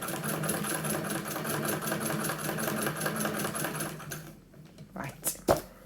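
A hand-crank sewing machine stitches free motion embroidery on a single piece of fabric with a rapid, even mechanical chatter up close, then stops, followed by a few soft handling knocks.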